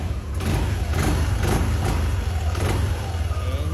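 A 2024 Yamaha NVX155 ABS V2 scooter with a standard engine and low mileage starts and revs close by, its motor rising in several quick throttle bursts over a steady idle.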